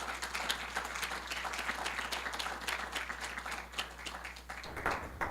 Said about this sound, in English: Let us all give him a round of applause.